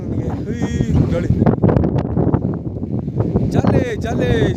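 Steady wind roars and buffets the microphone on Mandaragiri hilltop in Tumakuru, a constant low rumble that stays loud throughout while voices talk under it.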